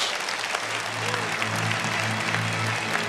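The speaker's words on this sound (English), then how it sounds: "Let us give another big round of applause to Chairman Lee" Conference audience at a global peace leaders' gathering applauding Chairman Lee, steady dense clapping from a large hall filling the whole stretch over a low sustained hum.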